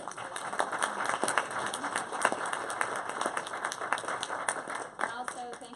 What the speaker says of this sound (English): I just want to give a huge round of applause to our guests